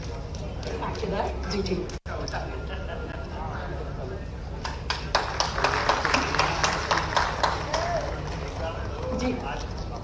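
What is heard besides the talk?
loud applause for the minister's birthday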